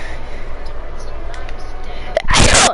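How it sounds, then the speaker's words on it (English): A single loud, sudden sneeze bursts out near the end after a stretch of quiet background noise. "Sorry guys, I had to sneeze."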